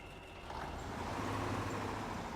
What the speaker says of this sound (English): Start up the truck.